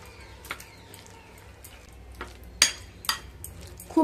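Onion, chilli, salt, nigella seeds and turmeric being stirred together in a bowl, giving scattered sharp clinks and scrapes of a utensil against the bowl at an uneven pace, close and fairly quiet.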